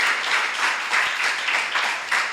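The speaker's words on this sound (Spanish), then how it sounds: "¿Por qué no le damos un aplauso a nuestro Dios, hermano?" A church congregation applauds in steady, dense clapping that sounds fairly close and continuous, with no speech over it.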